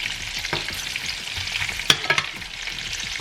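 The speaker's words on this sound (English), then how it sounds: "We got some butter right here because it says we should add it towards the end of the fish fingers being cooked." Fish fingers fry in butter in a pan, a steady close crackling sizzle with a few sharper pops and spatters.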